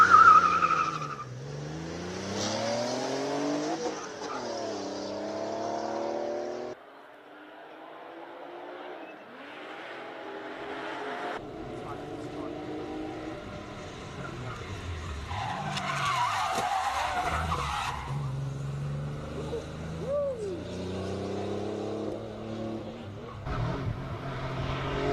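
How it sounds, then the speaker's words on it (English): A Porsche 930 Turbo makes a timed run at the Speed Classic Cape Town classic car event, its engine rising and falling through gear changes with tire squeal and skidding, the sound passing from near to farther off. "All the way through, ladies and gentlemen, clean run by the 930 Turbo"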